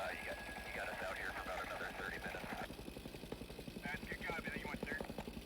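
A helicopter's rotor thumps steadily overhead at a firefighting incident scene while a radio voice talks over it.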